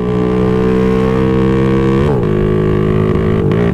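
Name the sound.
Honda Astrea Grand 140cc four-stroke motorcycle engine revving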